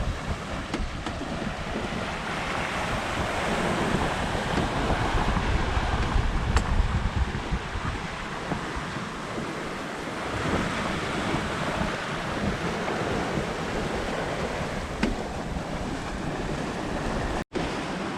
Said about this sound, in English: A bit more wind this morning, maybe